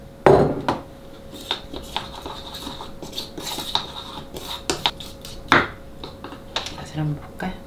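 Ingredients for a Korean dish seasoned with perilla oil being mixed in a bowl, with repeated close clinks and scrapes of a utensil against the dish at an uneven rhythm.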